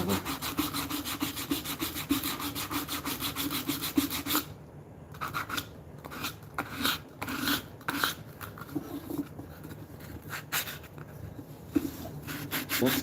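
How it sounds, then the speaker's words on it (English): A wooden mallet's top edge being rounded over by hand, steady close rasping and rubbing strokes of a file or sandpaper on wood in even rhythm, briefly pausing midway, no voices. "at the top, we're going to put our own bevel, chamfer, whatever you want to call it, round over"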